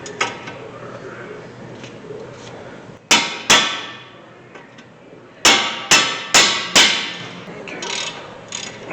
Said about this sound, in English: Have to break the caliper bolts loose, which is your 18 millimeter.